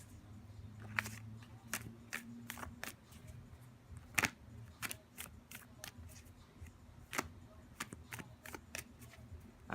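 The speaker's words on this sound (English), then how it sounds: "Go on and shuffle the deck here for you guys." Tarot card deck being shuffled by hand, a quick run of crisp riffling snaps and flicks in uneven bursts, close and fairly quiet, with no talk.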